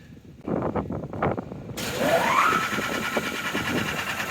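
A rebuilt Roskamp 9x36 roller mill's motor starts up after a short stretch of background noise, quickly rising into a steady, loud electric hum with a brief whine as it comes up to speed and runs on evenly.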